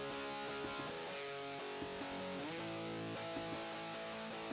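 Alternative rock guitar track with its EQ bypassed, a dense distorted chord progression ringing continuously for several seconds with a few chord changes, full and upfront, no voices.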